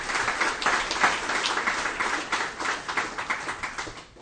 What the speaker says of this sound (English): I would ask the audience to please give another round of applause to Mr.